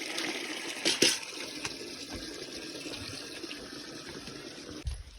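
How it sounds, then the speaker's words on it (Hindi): Steady broadband hiss of water spraying while a roof is washed, continuous throughout with a few brief splashes and knocks, fairly close. "यहाँ आप देख सकते हो कितनी बारिश जैसे लगी हुई है, पूरा छत धुलने पे लगा हुआ है।"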